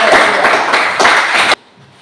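Applause for a student group at a classroom discussion session: a burst of many hands clapping, loud and close, ending abruptly into quiet.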